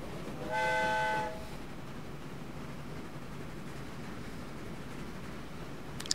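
A tram in the rail simulation game Train Fever sounds a short horn as it pulls in, followed by a long, steady low rumble of the vehicle settling at the stop, with a faint click at the very end.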